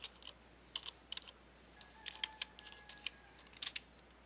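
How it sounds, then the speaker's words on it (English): Typing on a computer keyboard at a desk, a quiet scatter of light key clicks in short bursts and pauses, close and alone. "we're going to update the group policy by typing GP update"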